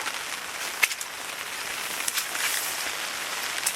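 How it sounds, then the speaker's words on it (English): Rain falls steadily outside a ground blind on a muddy day, a soft even hiss of drops on the surface with a few sharper patters, close and alone without voices. "I'm gonna go outside in the rain."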